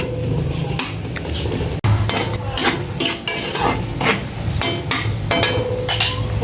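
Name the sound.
onions sautéing in a pan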